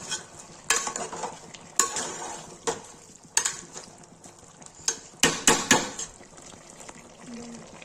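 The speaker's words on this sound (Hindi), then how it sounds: "इसमें डालेंगे लाल मिर्च, डालेंगे हल्दी, तो चला देंगे।" Chicken cooking with red chilli and turmeric is stirred in a pan, giving a soft background sizzle broken by sharp, irregular spoon scrapes and clacks against the metal.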